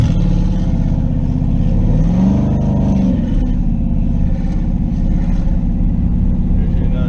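A twin-turbo LS-swapped third-generation Camaro engine pulls hard under acceleration, a loud, steady low drone from inside the car that rises in pitch briefly before settling back to cruise, with some talk mixed in.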